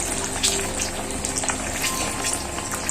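Chilli bajji, battered green chillies, fry in hot oil with a dense, steady sizzle and crackle close by, continuous and without talk.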